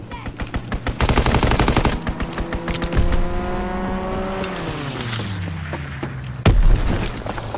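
Aircraft strafing run in the Call of Duty WWII video game: dense, rapid bursts of machine-gun fire and booming impacts, with a plane engine roaring and its pitch dropping as it sweeps past.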